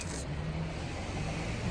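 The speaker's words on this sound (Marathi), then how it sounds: "मागे तर पूरी ट्रॅफिक आहे सगळीकडे." Cars sit in a snowbound traffic jam near Manali, their engines making a steady, low rumbling hum at middle distance with no distinct pass-bys.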